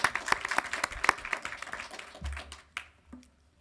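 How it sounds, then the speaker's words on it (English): Short burst of audience applause at a school board of education meeting, clapping dense at first then thinning out and fading, with a few scattered taps and low thumps near the end. "We can clap for that."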